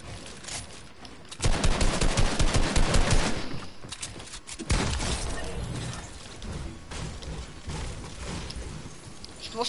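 A SPAS-12 shotgun in Fortnite fires amid a chaotic, loud stretch of rapid gunfire and crashing impacts, with bursts clustering early and a second heavy volley midway.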